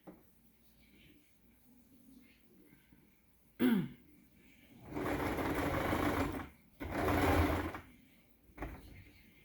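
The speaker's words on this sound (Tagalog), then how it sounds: "nagtatahi pa ako ng damit ko" A domestic sewing machine stitches fabric for a dress in two loud, sustained whirring bursts, each a couple of seconds long, with softer handling sounds between them.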